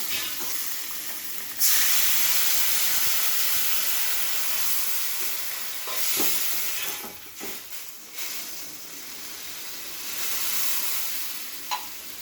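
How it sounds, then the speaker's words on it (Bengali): Water is poured onto fried spice paste in a pan while cooking cauliflower and eggs. A sudden loud hiss bursts up and settles into steady sizzling and steaming, with a few clanks and scrapes of stirring along the way. "আমার মশলা সব কষানো হয়ে গেছে, এখন আমি জল দিয়ে দেবো।"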